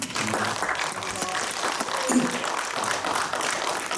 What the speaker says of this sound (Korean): 장정규 위원님께 박수 한번